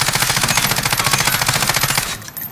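Automatic gunfire in Call of Duty: Warzone, trigger held down for a loud, steady stream of rapid shots lasting about two seconds before stopping abruptly.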